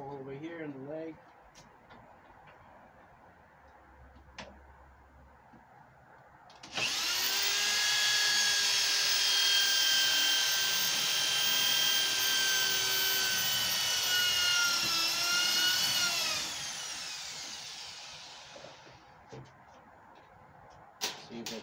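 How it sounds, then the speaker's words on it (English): A power drill bores a hole into a wooden furniture leg, a loud steady whine lasting about eight seconds, close by, with quiet speech before and after. "So now I'm going to make a hole over here in the leg."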